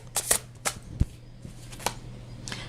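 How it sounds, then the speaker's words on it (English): Tarot cards riffled and shuffled by hand, then a card pulled from the deck: a few close, crisp flicks and slaps spread unevenly across a quiet moment, with no talking. "Let's pull a card on that Page of Swords."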